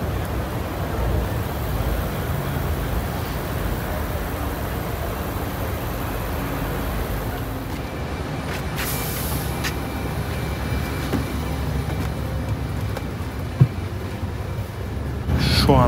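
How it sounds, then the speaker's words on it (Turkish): Interior of a bus travelling at night, seated at the back: a steady low rumble of engine and road noise throughout, with faint rattles and a brief knock near the end. "Şu anda otobüsün arkasına bindim."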